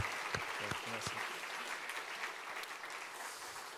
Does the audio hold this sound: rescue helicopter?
no